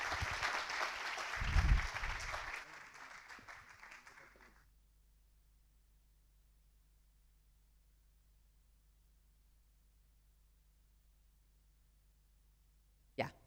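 An auditorium audience at a medical cannabis conference in Lisbon applauds, a dense patter of clapping for a few seconds that dies away into low steady hum and silence, ending with a single sharp knock.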